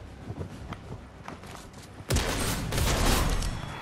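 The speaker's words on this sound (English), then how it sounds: "Fire the guacamole grenades!" A burst of rapid weapon fire erupts in a video game, guacamole grenades being launched, loud and dense after softer thumps and footsteps.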